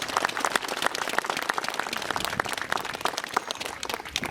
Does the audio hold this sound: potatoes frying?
no